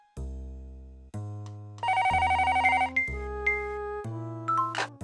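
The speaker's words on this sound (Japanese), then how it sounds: "電話だ。" Telephone ringing in the video game Tantei Shinshi DASH!, a bright electronic ringtone of chiming, repeating tones played loudly over a low musical backing, with a short melodic phrase and jingle following.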